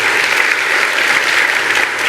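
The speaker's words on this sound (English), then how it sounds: "let's give this industry titan a big round of applause" Audience applause for a panel guest at an industry conference, a loud, close, continuous round of clapping with no voices over it.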